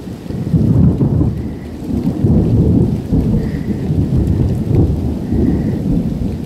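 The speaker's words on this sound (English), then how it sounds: "it's going to be a stormy, loud, thundering day" Deep, rolling thunder rumbles through steady heavy rain, the low booms swelling and fading without pause.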